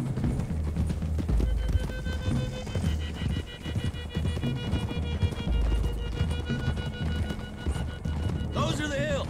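Horse hooves clip-clop at a gallop in Red Dead Redemption 2, steady and close under a music score, with a whinny near the end and speech elsewhere in the scene.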